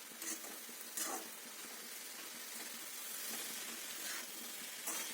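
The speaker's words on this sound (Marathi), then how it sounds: "आपण हलवून घेऊया" Sukat dried fish is stirred in a pan, giving a soft, faint sizzle with a few brief scraping bursts as it is moved around.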